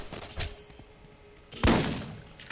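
A shotgun blast in the video game Borderlands, with one loud, booming shot near the end that trails off, after a quieter thump early on.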